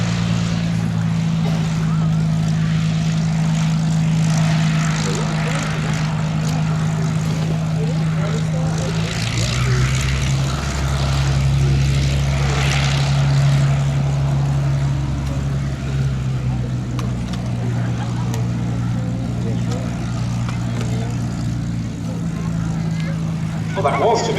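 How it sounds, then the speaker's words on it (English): Spitfire propeller aircraft taxiing in at the Duxford air show, a loud, steady engine drone whose pitch shifts as the planes move, under an announcer's commentary. "Spitfires taxiing in"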